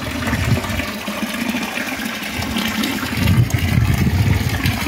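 Swimming pool pump circulating water, giving a steady rushing, gushing flow that stays loud and close throughout with no talk.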